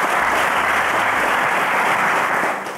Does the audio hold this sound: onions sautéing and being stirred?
no